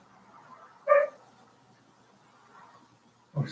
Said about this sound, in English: Get out, dog.